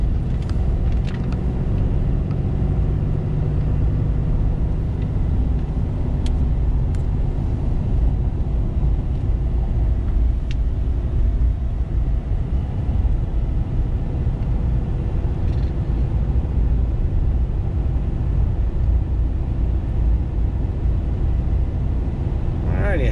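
A 2014 Ram diesel pickup with a manual transmission and 4x4 drives along, heard from inside the cab as a steady, loud low engine and road rumble. It stays constant with only faint clicks.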